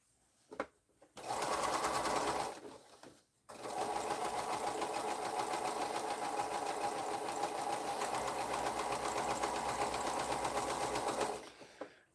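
A sewing machine stitches quilt pieces along a curved seam, running in one short burst and then one long steady run of rapid, even needle rattle, close and loud with brief pauses between.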